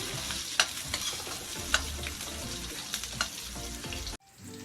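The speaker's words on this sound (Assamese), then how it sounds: "এইখিনি অকণ জুইটো অকণ কম কৰি ল'লে ভাজোঁতে পিঁয়াজখিনি ভাল" Onions sizzle and fry in a pan over lowered heat as part of an Assamese dry fish and brinjal dish, with a steady hiss broken by several sharp stirring scrapes, close up, ending abruptly.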